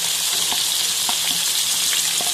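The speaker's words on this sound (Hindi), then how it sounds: "और इनको गोल्डन ब्राउन होने तक फ्राई कर लेंगे" Two large grated onions fry in a pan, giving a loud, dense, continuous sizzle up close, with faint stirring taps and no voices.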